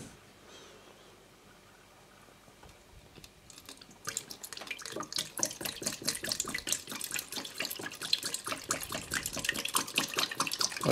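Liquid coolant is poured into the cooling system of a Renault Twingo, starting quietly and then becoming a steady splashing, gurgling trickle that continues to the end, with no talking.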